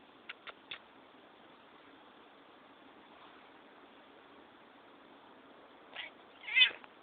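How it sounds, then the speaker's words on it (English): A pet cat meows indoors, a few faint short chirps early on and then a louder, clearer meow near the end, against a steady background hiss. "You're a pretty cat, aren't you?"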